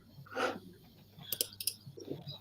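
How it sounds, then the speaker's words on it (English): Keyboard typing picked up by an open microphone, a few quick clicks and taps close to the mic with low background noise. "I'm typing away and my bloody mic's on."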